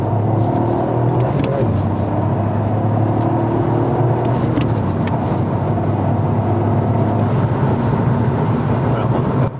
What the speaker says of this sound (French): c'est le son du 3 cylindres qui est amplifié